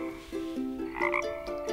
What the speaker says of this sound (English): frog, that's right